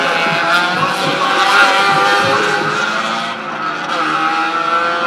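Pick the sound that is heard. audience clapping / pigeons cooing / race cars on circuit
race cars on circuit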